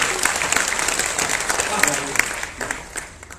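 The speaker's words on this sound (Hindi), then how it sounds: "एकदम हाथ उठा के जोरदार ताली" An audience at a Hindi comedy poetry gathering claps loudly, the applause sustained and crackling with individual hand claps that taper slightly toward the end.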